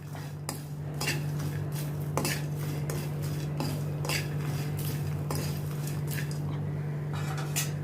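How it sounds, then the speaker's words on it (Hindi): A spoon stirs a salted snack mix in a bowl, making repeated scraping and clinking strokes at a steady rhythm over a constant low electrical hum. "नमक डाल के अच्छी तरह से मैं मिक्स करती हूँ"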